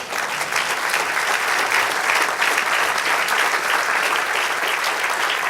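Church congregation applauding steadily, a dense, loud wash of clapping that holds at full strength for several seconds without talk.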